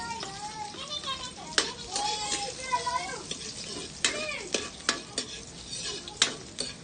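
Garlic sautéing in a hot pan for a Kapampangan eggplant dish, with a steady sizzle broken by sharp clicks of a utensil stirring and scraping the pan, close and moderately loud, as child-like voices and talk sound faintly in the background.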